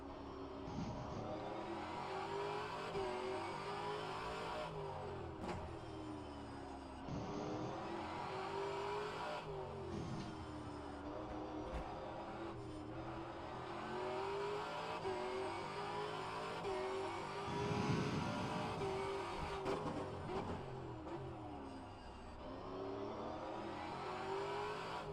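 Race car engines roar steadily in rFactor2 at a Detroit Grand Prix circuit, revving and shifting through gears with a faster car closing in; continuous loud engine drone with periodic throttle lifts, no talk.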